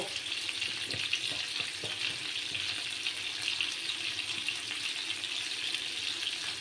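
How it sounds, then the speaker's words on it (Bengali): Rohu fish frying in mustard oil produces a continuous bright sizzle with faint spatters and small pops, steady and close, with no speech. "মাছগুলোকে আর একটু সময় ফ্রাই করে তারপর আমি মাছগুলোকে নামিয়ে নেব।"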